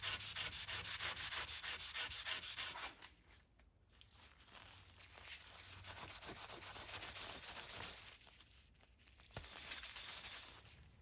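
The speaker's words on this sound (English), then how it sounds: "Now we will sand the all-black panpipe extremely lightly." A black-finished wooden Viking-style panpipe being sanded very lightly by hand, steady rhythmic rubbing strokes close up, pausing briefly twice before resuming, with no talking.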